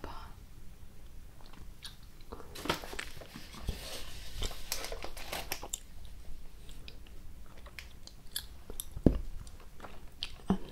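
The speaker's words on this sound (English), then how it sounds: "I'm not very good at bubble gum sounds." Hubba Bubba bubble gum is chewed close to the microphone, with soft, wet, squishy bites and smacks continuing irregularly throughout at a quiet, intimate level.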